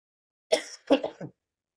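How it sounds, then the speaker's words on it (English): A couple of close, harsh coughs from a sick man with a throat-clearing rasp, short bursts separated by a brief pause, in an otherwise quiet room. "Hang on, cough."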